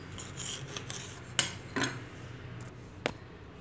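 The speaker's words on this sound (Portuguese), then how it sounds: "Agora eu vou cortar ela. Vou medir assim uns três dedos de tamanho e vou cortando os pedaços." Knife cutting stretched bread dough into pieces for quick rolls, with a few sharp taps of the blade on the board and soft scraping, close and quiet with no talking.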